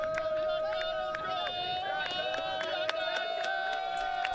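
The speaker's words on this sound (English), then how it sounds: "Sideline getting really fired up here" A big sideline crowd at a women's ultimate frisbee final cheers and yells steadily, with sharp clap-like bursts over the roar, while a commentator talks over it.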